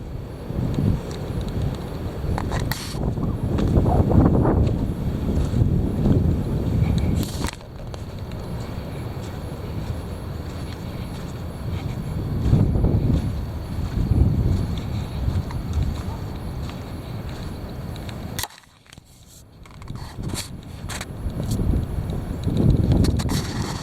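Heavy wind buffets the microphone in long roaring gusts that swell and ease across the whole stretch, with a brief drop near the end before the blustering returns.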